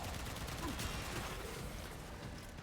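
Rapid automatic gunfire in the video game Warframe rattles as a faint, continuous burst of shots with mechanical clatter, steady throughout and set well back in the mix.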